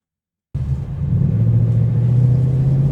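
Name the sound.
Ford Mustang GT convertible turning a full circle in parking lot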